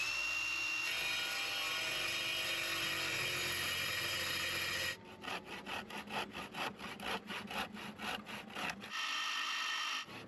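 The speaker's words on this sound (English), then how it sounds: "This is a pretty chunky piece of wood, so I don't know how well it's going to cut" A power tool cuts through a chunky piece of wood during boat repair work; after a steady whining drone, the cut turns into a rapid rhythmic rasping chatter of teeth biting wood, fairly loud and close.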